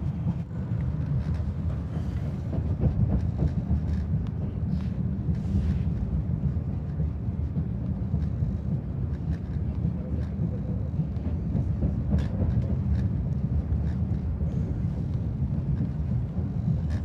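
Steady, low rumbling interior noise of a bullet train travelling from Samarkand to Bukhara in Uzbekistan, a continuous muffled drone and rush with faint rattles, no talk.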